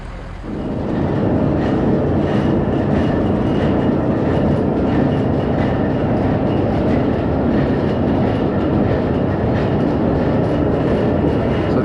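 Antique line shaft machinery powered by a single electric motor at an antique motorcycle meet, a continuous loud mechanical rumble and clatter with rhythmic clicking of belts and pulleys, steady throughout and close by.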